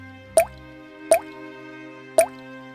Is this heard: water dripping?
yes